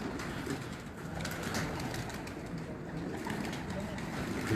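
Pigeons coo from a rooftop loft, soft repeated calls blended into a steady hiss of outdoor background noise.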